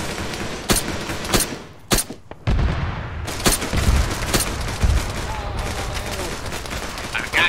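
Gunfire in the video game Arma 3 during a base breach, several sharp, loud shots scattered irregularly with a burst near the middle, over a busy battle backdrop.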